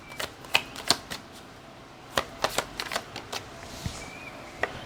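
Tarot cards drawn from a deck give a string of crisp, close card snaps and flicks, some clustered and some spaced apart, fairly loud over a low hiss with no talking.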